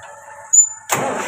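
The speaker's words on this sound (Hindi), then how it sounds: "देख सकते हो एक ही सेल्फ में गाड़ी स्टार्ट हो चुका है" A John Deere 5310 tractor engine, just repaired with new piston rings, is briefly cranked and then fires up, starting on the first try and settling into a loud, rough idle.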